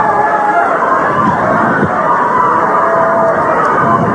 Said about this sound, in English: you can hear the crowd picking up the chant for Larry Hamilton and Hamilton